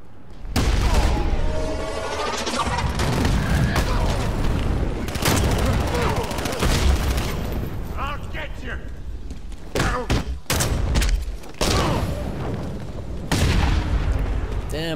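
Sentry gun fire in Batman: Arkham Knight, with repeated loud booming bursts and thuds, dense and close, running almost continuously, with game voices heard now and then among the shots.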